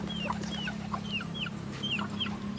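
Chickens cluck in short repeated calls over a steady low hum, fairly close by.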